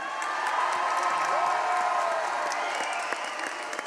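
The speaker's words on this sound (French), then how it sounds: "On les applaudit." A crowd at the Grand Kiff 2025 opening ceremony applauds and cheers in a sustained, dense wash of clapping, with scattered whoops and faint tonal sounds mixed in.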